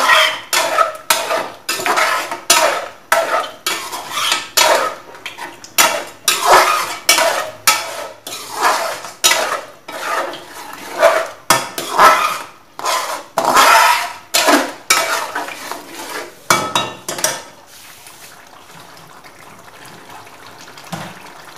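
Brisk, loud stirring of beef karahi as yogurt goes into the pot, a steady run of rhythmic scraping clatters of spoon against metal that fades to quiet near the end.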